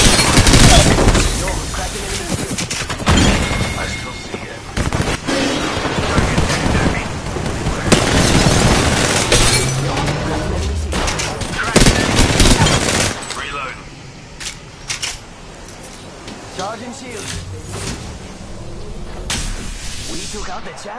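Rapid video game gunfire rattles through dense overlapping bursts and booms, loud and near for most of the stretch before thinning into scattered shots, with voices talking over the action.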